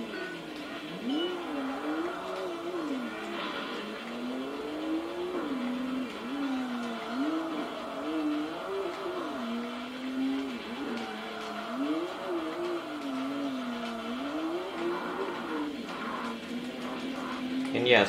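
A Nissan Skyline GT-R R32 tuned to 735 horsepower racing in Tokyo Xtreme Racer Drift 2, its engine droning and swinging in pitch through repeated shifts, steady and close throughout.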